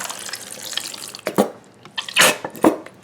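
Salad dressing poured from a bottle onto warm pasta, a wet, splashy liquid stream with glugging spurts that strengthen toward the end, close and alone.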